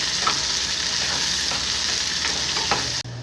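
Chopped onions fry lightly in hot oil for a curry with chana dal and ridge gourd, a steady close sizzle with a few soft stirring scrapes, cutting off abruptly near the end.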